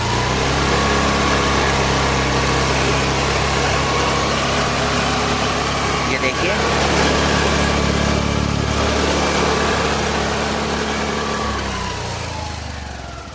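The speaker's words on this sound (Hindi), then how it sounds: "ये देखिए एक्टिवा एच स्मार्ट की नॉइज सुनिए" A Honda Activa H-Smart 2024 scooter engine idles close by, a steady, even hum with a faint rattle, holding constant before easing slightly quieter at the end.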